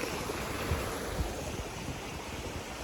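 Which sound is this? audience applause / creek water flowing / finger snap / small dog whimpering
creek water flowing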